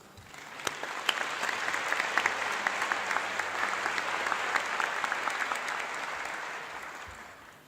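A convocation audience for a business college bursts into steady, sustained applause, dense clapping that holds at full strength for several seconds before tapering slightly at the end.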